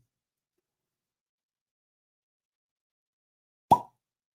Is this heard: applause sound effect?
no